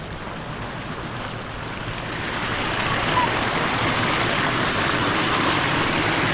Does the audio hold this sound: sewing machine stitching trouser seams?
no